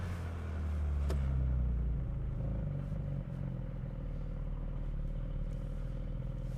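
A Porsche Cayman GTS 4.0 rolling slowly in first gear in traffic, a low steady engine rumble with a brief swell early on that then settles, heard from inside the car with no talk.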